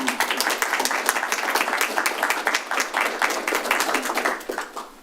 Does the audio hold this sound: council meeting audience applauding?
yes